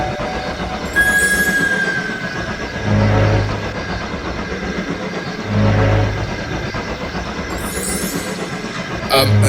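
A train rumbles past nearby with a steady mechanical roar, periodic heavy thumps from the wheels, and a brief high whine.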